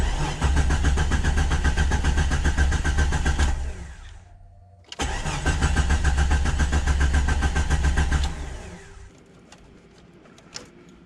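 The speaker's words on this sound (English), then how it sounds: "Let me go crank the engine." A Jeep XJ engine cranks and fires, running loud and steady before cutting off, then cranks and catches again and runs, settling down to a faint idle with light clicks at the end.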